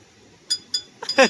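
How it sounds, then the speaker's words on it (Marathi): A small metal temple bell in a cave temple rings with a few short, bright strikes, the last ones quicker and louder, in an otherwise quiet space. "घंटी वाजव"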